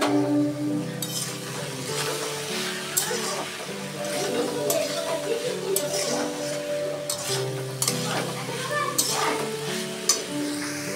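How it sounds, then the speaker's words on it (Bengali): Vegetables frying in a pan for veg pasta with chilli powder and salt, stirred with a utensil, giving a steady sizzle under scraping and clinking, with tonal background music throughout. "আর পরিমাণ মতো নুন দিয়ে আরেকবার আমি একটু নেড়ে দেবো।"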